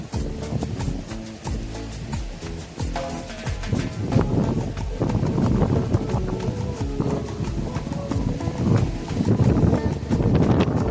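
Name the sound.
strong wind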